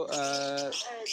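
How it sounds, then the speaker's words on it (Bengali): A bird at a pet market gives a single close, squawking call lasting about half a second, followed by a softer, fainter call, amid light background noise. "পাখি আছে"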